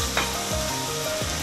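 Noodles fry in a pan with a loud, continuous close sizzle and a few brief stirring scrapes across a short stretch, with no talk.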